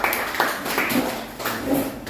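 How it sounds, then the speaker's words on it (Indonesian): Applause in a classroom after a student presentation: an even wash of hands clapping from a small group, moderately loud and continuous, with no voices. "tepuk tangan untuk Filbert"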